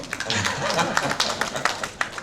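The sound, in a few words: audience applause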